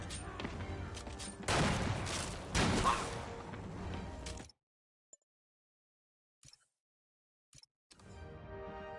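Sniper gunfire in the Marvel's Spider-Man video game: a dense burst of loud shots and impacts for several seconds, then near silence with a few faint clicks before a renewed rumble of action.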